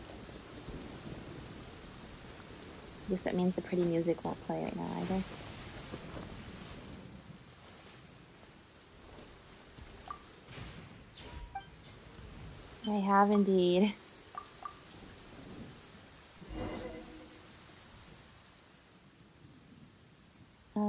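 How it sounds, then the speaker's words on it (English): Steady rain with low rumbling thunder in the Genshin Impact game world forms a soft continuous backdrop, while a player talks intermittently over it and brief in-game voice lines break in. "It's raining now."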